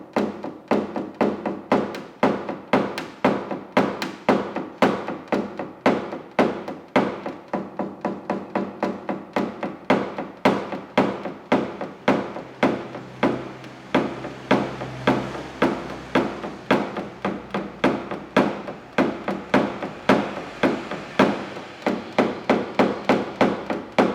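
Paintless dent repair on car bodywork: a hammer taps out a dent with a long run of quick, sharp metallic knocks in steady bursts, close and loud, continuing without pause and with no talking.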